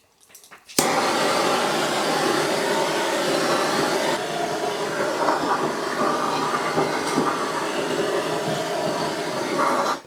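Steady, loud whooshing air from a blower drying a freshly hot-blued Air Arms TX200 air rifle part starts abruptly and keeps running for about nine seconds, with small shifts in tone.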